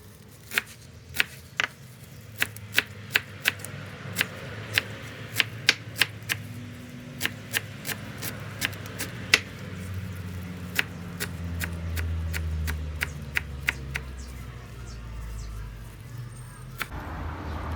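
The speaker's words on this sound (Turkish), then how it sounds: "Maydanozları doğrayalım" A kitchen knife chops fresh parsley on a cutting board for homemade Adana-style lung tantuni, giving close, sharp, irregular taps in quick bursts over a low background hum.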